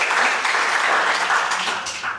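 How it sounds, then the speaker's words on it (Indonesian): Steady applause from a crowd fills the whole stretch, a dense wash of clapping at even loudness with no voices over it. "Boleh tepuk tangan buat Pak Wayan"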